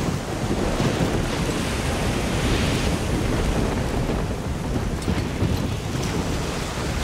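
A storm in Risen 2 keeps up a loud, steady roar of heavy rain and crashing waves, with rumbling thunder rolling through it and no voices.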